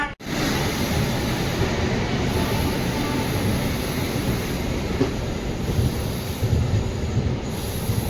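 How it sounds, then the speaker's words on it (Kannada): A train stands and moves at a platform of Gunthakal Junction, producing a loud, continuous rumble with high metallic wheel squeal and a steady broadband roar that lasts the whole time. "ಪ್ಲ್ಯಾಟ್ಫಾರ್ಮ್ ನಂಬರ್ 1 ಯಾವುದೋ ಒಂದು ಟ್ರೈನ್ ಬಂದು ನಿಂತಿದೆ ಅಲ್ಲೇ ಗುಂತಕಲ್ ಜಂಕ್ಷನಲ್ಲಿ."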